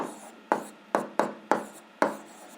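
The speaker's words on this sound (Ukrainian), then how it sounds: "Записуємо друге рівняння." Handwriting an algebra equation on paper, a series of about six short, distinct scratching strokes of pen or pencil, close and fairly crisp with brief gaps between them.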